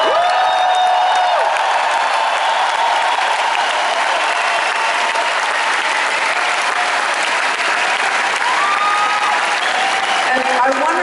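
A live concert crowd in Antwerp, Belgium applauds and cheers, loud continuous clapping with whoops and shouts rising through, filling the whole stretch.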